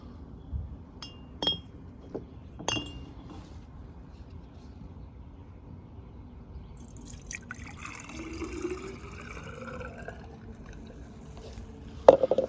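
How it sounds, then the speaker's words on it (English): Metal stone-carving chisels clink against each other and the sides of a glass vase as they are placed in, a few sharp taps early, then a quieter stretch with liquid-like sloshing and a final clatter, no talking. "So I'm going to move everything over to the vase."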